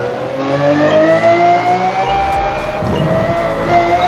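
A race car engine in the Forza Motorsport video game winds through shifting pitch as it downshifts into a hairpin, a loud, close tonal engine whine with a brief low rumble partway through.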